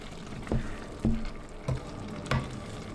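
A wooden madhani churner mashes cooked sarson da saag in a pot, making four soft, evenly spaced thuds with wet squelches between them, quiet and close.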